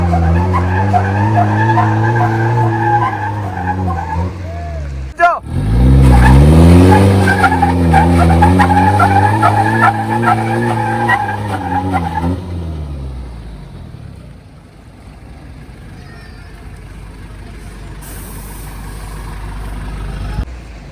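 Tires of a Mitsubishi Pajero spinning and skidding under load while it tows a Taurus tipper truck, loud and close, with a strained engine roar rising and falling in long waves and a sharp jolt partway through.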